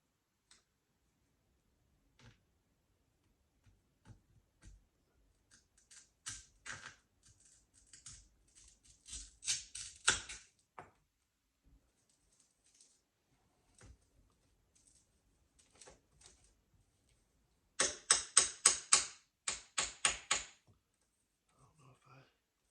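A glass cutter scores camper window glass in scattered bursts of close, crisp scratching clicks, with quiet gaps in between and two denser runs of rapid strokes.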